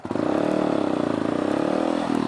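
A manual motorcycle engine revs up as the throttle is pulled, a close, loud, rapid pulsing drone that rises in pitch, with light mechanical clatter.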